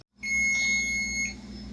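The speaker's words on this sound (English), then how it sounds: "Now the timer just went off for the cake." A kitchen timer goes off for a cake baking in the oven, a single sustained high electronic beep that starts abruptly, holds for about a second, then fades into low room hum.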